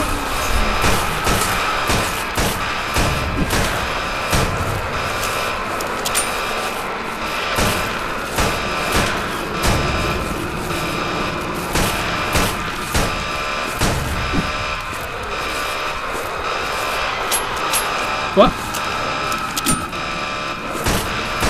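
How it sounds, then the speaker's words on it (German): Pistol gunfire in the zombie shooter Total Chaos (GZDoom mod): repeated sharp shots in irregular bursts over a dense, noisy game soundscape, loud and close throughout. "Wir probieren es erstmal mit der Pistole."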